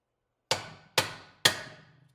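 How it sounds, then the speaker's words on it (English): Three sharp metallic hammer blows struck on a car's suspension ball joint to knock it loose, evenly spaced and ringing briefly before each one decays, with nothing else around them. "I'm going to start by just hitting it with a hammer."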